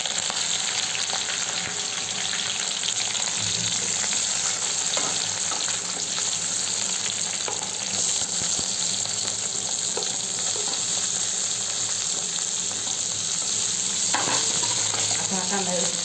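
Onion frying in hot oil with cumin, chilli and curry leaves for vermicelli upma, a steady loud sizzle throughout with occasional stirring scrapes and no talking.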